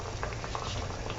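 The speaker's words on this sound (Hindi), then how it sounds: "ये घी हमारा तैयार है फ्राई होने के लिए।" Hot ghee bubbling steadily in a pan before sweet tikki go in for frying, a dense, even seething with fine patter close by and no talk.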